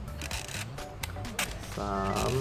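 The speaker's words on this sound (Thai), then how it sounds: "ผมจะเทสแต่ตัวชัตเตอร์แล้วกัน" An Agfa camera's shutter is fired several times, giving sharp, separate clicks over a steady background hum.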